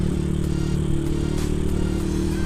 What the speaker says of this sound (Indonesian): Suara knalpot juga lebih ngisi, soalnya nggak kebagi gitu ya.